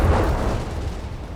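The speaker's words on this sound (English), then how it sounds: "that Kronosaurus unleashes the might of a German artillery battery there" German artillery battery barrage in Company of Heroes 3, a deep, continuous low rumble of booming shellfire that holds steady and loud through the short stretch without clear gaps.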